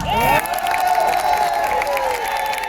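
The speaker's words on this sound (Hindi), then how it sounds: "अब भैया, अब ताली बजाने का टाइम है।" A large crowd at a political rally in Burhanpur claps and cheers loudly, with shouts and whoops rising over a steady roar of applause that stays close and full throughout.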